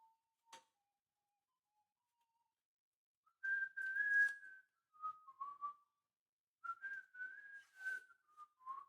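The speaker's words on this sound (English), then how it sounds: "Whistle as you work." A person whistles while working, a clear tuneful melody in short phrases separated by pauses, close and alone after a faint brief knock at the start.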